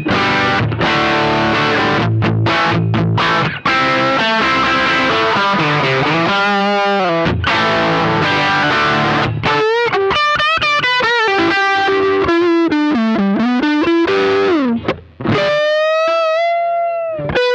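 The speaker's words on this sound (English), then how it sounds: "Let's move on to the black box overdrive." Electric guitar through a Black Box overdrive pedal in overdrive mode, smooth setting on with big low-end boost, giving a loud mid-gain crunch: chords ring through first, then sustained bending single-note lead lines, with no talking.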